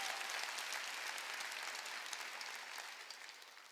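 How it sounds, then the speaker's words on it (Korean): A church congregation claps together during a Sunday worship service, a steady, dense wash of applause that holds throughout and fades slightly toward the end, with no speech over it. "박수 칠려면 치고 말라고요"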